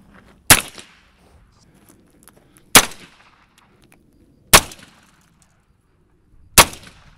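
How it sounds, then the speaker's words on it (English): Four 9mm gunshots are fired one by one into the structural steel pillar of a car, sharp loud cracks spaced about two seconds apart, each with a short ringing tail, close and without talk. "this first pillar, which is structural steel, very strong, we're going to have him shoot into there"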